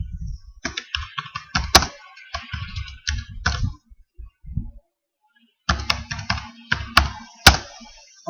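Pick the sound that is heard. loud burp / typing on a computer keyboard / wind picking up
typing on a computer keyboard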